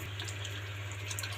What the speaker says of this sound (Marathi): पाणी टाकते थोडं.